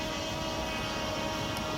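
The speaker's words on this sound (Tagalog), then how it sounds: "yung pagpapalipad ko ay medyo uncontrollable yung takbo ng drone" A flying drone gives a steady, loud, close whirring drone of spinning propellers, unbroken and with no voices.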